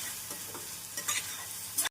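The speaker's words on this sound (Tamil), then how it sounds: "நாம் மாங்காய் சேர்த்து ஒரு நிமிடம் நன்றாக வதக்க வேண்டும்" Mango and onion sizzle and crackle in a hot pan while a utensil stirs and scrapes through them in short, uneven strokes, close up and without talk.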